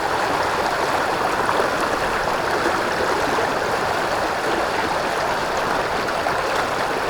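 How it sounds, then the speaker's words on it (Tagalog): A strong river current rushes steadily and loudly near Coto, a dense continuous roar of flowing water with no let-up and no voices. "Lakas ng agos."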